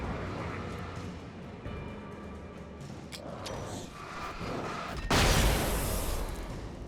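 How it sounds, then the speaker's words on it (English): Flashbang grenades going off in Alan Wake Remastered, a sudden loud broadband blast bursting in near the end over a low rumbling game backdrop, with scattered sharp cracks beforehand. "the flashbangs actually destroy them"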